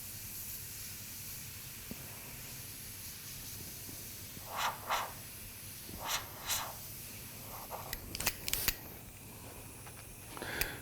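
Short bursts of fine airbrush paint spray hiss on and off over a steady background hum, several brief puffs spaced a second or two apart.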